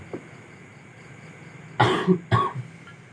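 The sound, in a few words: cough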